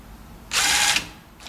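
A power screwdriver driving half-inch flathead screws through L brackets into a cabinet panel, one brief close whir of about half a second, then quiet.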